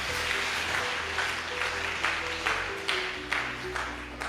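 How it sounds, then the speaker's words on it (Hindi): An audience at a church gathering claps in a steady rhythm, with a low tonal hum running underneath. "ताली नहीं बजाओगे?"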